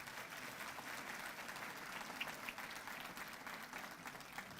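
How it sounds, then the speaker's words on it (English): Guests at a veterans appreciation luncheon applaud the organizing volunteers, a quiet, even wash of many hands clapping from across the room, steady throughout. "a big round of applause for them"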